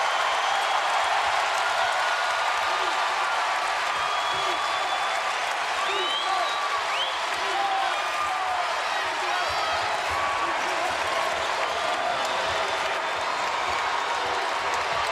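Arena crowd noise at a 2018-19 Kentucky vs Vanderbilt college basketball game, a steady loud roar of cheering and applause filling the whole stretch without pause.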